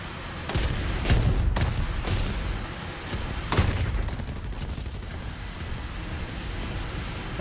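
Guns on an A21RB jet attacker fire in War Thunder in several short, loud bursts over a steady rushing roar.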